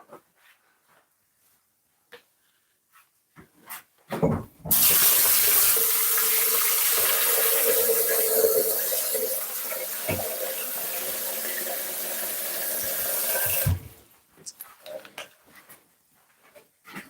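A kitchen tap runs water into a sink while Jamaican patty dough is being made, a loud steady gush lasting about nine seconds, with scattered handling clicks and knocks before and after.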